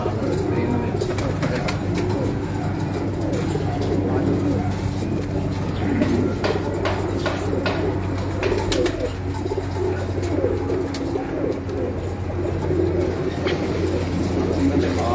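Pigeons cooing on the rooftop of a breeder's loft in Gujranwala, repeated low soft coos over a steady background hum with occasional chirps and faint distant voices.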